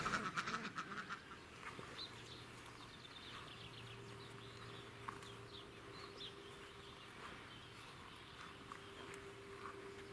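Indian Runner ducks quacking in a garden, a loud burst of calls at first, then softer scattered quacks over a steady low hum and faint footsteps.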